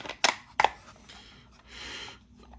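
A film camera's shutter snaps twice in quick succession, crisp and close, followed by softer mechanical winding or handling noise in a quiet room.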